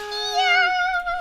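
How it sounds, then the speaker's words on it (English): Kirby's cry on being knocked off a stage in Super Smash Bros, a single high, cute voiced wail with a rising and falling pitch, near and clear for about a second with no talking. "that's the sound of Kirby getting knocked off of a stage in Super Smash Bros."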